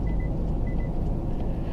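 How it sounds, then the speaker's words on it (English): Two short, soft electronic beeps in a 2017 Infiniti Q50 2.0t refusing a manual-mode gear shift, sounding over the steady low rumble of the car's engine and road noise. "you hear that little beep?"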